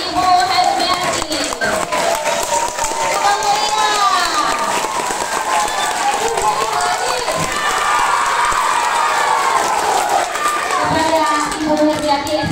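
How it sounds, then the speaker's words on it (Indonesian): Children and staff applauding and cheering at a Maulid Nabi celebration at an Indonesian elementary school, a dense, steady wash of clapping and shouting voices from a crowd filling the room throughout. "Aplaus yang meriah untuk Ibu Hermiati."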